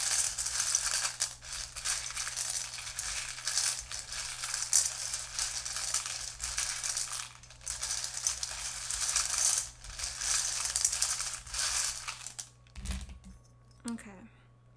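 A deck of tarot cards being shuffled, a busy papery riffling and rattling that runs for several seconds, pauses, resumes, then ends with a couple of soft taps.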